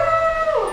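A dog's howl, a single sustained wavering cry that bends upward near the end, loud and close.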